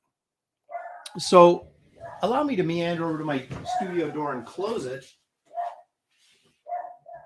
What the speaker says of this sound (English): my maniac dog barking at probably an Amazon delivery on Sunday